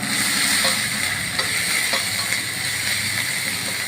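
Onions frying in a pan for a home-cooked prawn and greens dish, a steady close sizzle with faint scattered pops and scrapes throughout, no voices.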